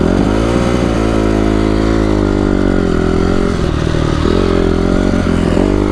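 A Honda CRF250R dirt bike engine runs at a steady, loud idle after a no-start fault was fixed, a constant mechanical drone with slight clattering and no voices.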